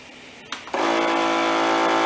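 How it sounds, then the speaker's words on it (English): A vacuum sealer motor kicks in after a couple of clicks and settles into a steady, buzzing whine as it pumps air out of a jar of blueberries, close and alone. "So you can hear the motor on the vacuum sealer will change sounds."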